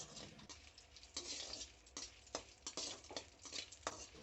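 Dried red chillies frying in hot oil, a faint steady sizzle broken by irregular ticks and crackles, close by and with no talk.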